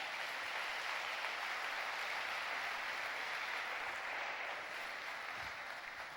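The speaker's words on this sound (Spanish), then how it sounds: "Dele fuerte ese aplauso al Señor." A church congregation gives sustained, steady applause for the Lord, a dense wash of clapping that carries evenly for several seconds with no talk over it.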